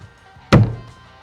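A homemade door on a square drop camper shuts into its frame with a single solid wooden thunk that rings briefly and dies away in a quiet setting.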